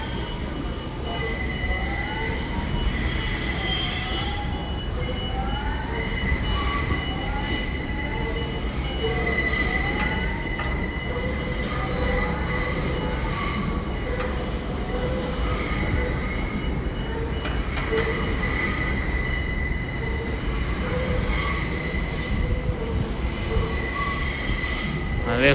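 TfL Rail train at London Paddington station, wheels squealing and whining steadily and loudly over a constant rumble of rail noise, with the metallic screech rising and falling throughout.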